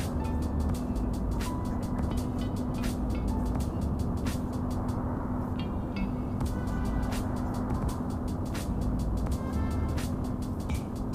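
Steady engine drone of a truck cruising down a road in the Truckers of Europe 3 driving game, with a constant low hum and road noise running unbroken throughout and faint sharp clicks over it.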